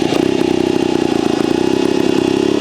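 A Vertigo Nitro JBR 300 two-stroke trials motorcycle engine pulling in second gear, a loud close steady buzzing drone with a rapid pulsing beat.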